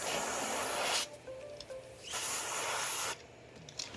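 Freeze Off penetrating oil sprayed from an aerosol can onto parts of a 1970 Karmann Ghia during restoration, two or three sustained hissing bursts of about a second each, close and moderately loud.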